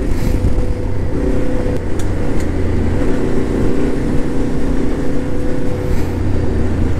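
Yamaha Tenere 700 adventure motorcycle ridden along fast, flowing dirt trails, its engine holding a steady, close drone with continuous wind and road rumble and slight rises in revs, no voices.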